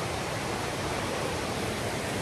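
Waterfalls roar in a steady, dense rush of falling water, loud and unbroken throughout with no voices over it.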